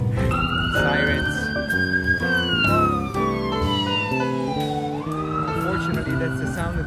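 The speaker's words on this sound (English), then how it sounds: "Sirens." A siren wails with a rising and falling pitch over lively background music and voices, staying steady and fairly loud throughout.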